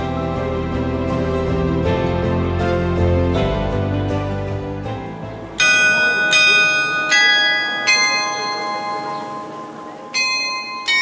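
Church bell at Gyeongju First Church rings in a series of clear, resonant strikes with long overlapping decay, close and loud, opening over a low sustained hum of bell tones before sharper repeated strokes.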